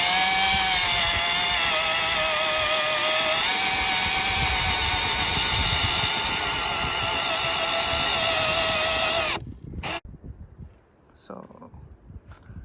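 A power tool carves a notch into a log for an off-grid cabin's timber frame stand, producing a loud, steady, high-pitched whine close by that cuts off near the end, leaving quieter handling noises and background sound.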